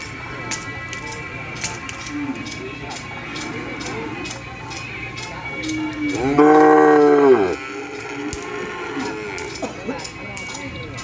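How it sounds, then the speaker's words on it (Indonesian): Cattle being unloaded from a truck: one loud, close, drawn-out moo lasting about a second midway, set against a steady background hum with rhythmic ticking and faint voices. "ini sekarang sudah sapi yang datang."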